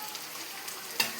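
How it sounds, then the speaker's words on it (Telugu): Dried red chillies, onions and garlic sizzling as a tempering in a hot pan, a soft steady crackle with a few small pops and one sharper spit near the end, close and quiet. "ఇదిగో పోపు వేసా, ఎండుమిర్చి, ఆనియన్స్, వెల్లుల్లిపాయి"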